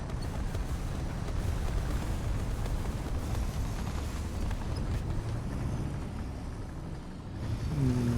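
A heavy tank engine rumbles continuously as it drives in the video game War Thunder, likely a T-55, a loud low mechanical drone with clanking texture, without anyone speaking.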